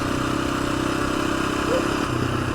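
A 1986 Honda XL250R motorcycle engine runs steadily at low revs on a quiet uphill stretch of a street ride, a continuous close mechanical hum and clatter with a slight swell near the end.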